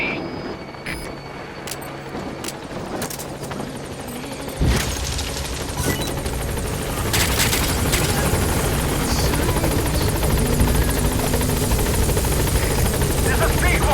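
A helicopter in the Metal Gear Solid V video game arrives and hovers over a landing zone, its loud continuous rotor thrum and turbine roar building and holding throughout, with scattered distant gunfire and radio voice chatter over it.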